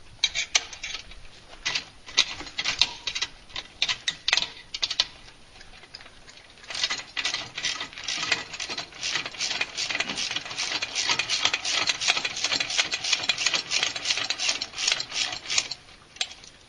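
Half-inch socket and box wrench turning hardware off a Minn Kota Talon quick release bracket on a jack plate mount, rapid ratcheting clicks and metallic rubbing, steady and close, with a few sharper knocks.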